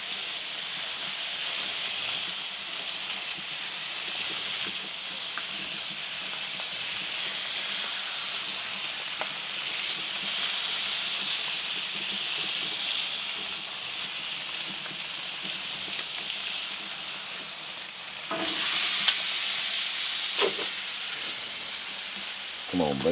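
Bacon for a burger sizzles and hisses steadily in a hot pan, a continuous close frying crackle with brief louder pops near the end and no speech over it.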